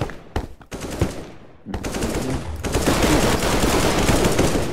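Rapid gunfire from players pre-firing on the Inferno map in Counter-Strike, loud sharp bursts at first, then building into sustained, dense firing with overlapping shots that fills the rest of the clip.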